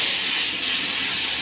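Tomatoes dropped into a hot pan for a paitam paruppu dish, giving a loud, close, continuous hissing sizzle that holds steady without a break.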